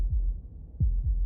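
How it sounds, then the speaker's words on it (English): A muffled, low heartbeat pulses in the visual horror game Slay the Princess, a few soft thumps spaced apart, close and alone with no voices. "That was the sound of a heartbeat,"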